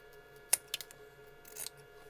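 Fabric scissors snip near a 20 cm zipper while a multi-function wallet with card slots is sewn: one sharp close cut, a couple of lighter snips, then a longer rustling cut, with no talking.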